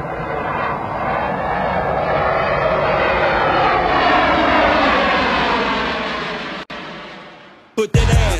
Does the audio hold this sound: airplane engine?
yes